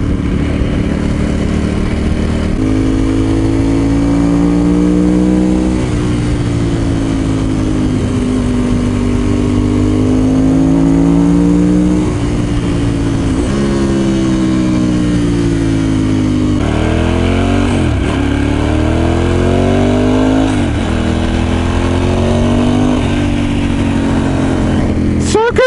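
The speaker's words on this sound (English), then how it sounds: "So good to be back on the Ducati." A Ducati motorcycle on a road ride, its engine droning steadily with repeated rises and falls in pitch as the rider revs and shifts gears, loud and close throughout, with wind rush and faint talk over it.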